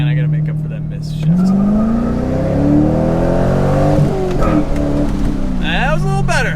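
A C5 Corvette accelerates hard, its engine note climbing in pitch, dropping at a gear shift, then climbing again, loud and close from inside the car, with a brief tire chirp near the end and someone talking over it.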